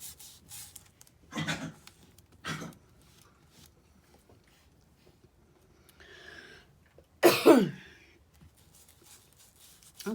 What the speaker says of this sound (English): Waylon says excuse me too as he's coughing.